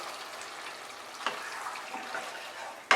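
About a cup of water pours into a pan of sour-spicy tilapia curry, a soft, continuous splashing hiss at moderate level with one brief sharper splash, and no voices.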